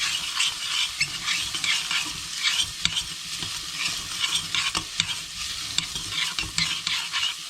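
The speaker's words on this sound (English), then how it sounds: "And then we're going to stir these together." Beef with red chili and cumin is stirred in a pot for chili colorado, giving a continuous bright sizzle. Frequent irregular scrapes and clicks of a spoon sound close by, with no talking.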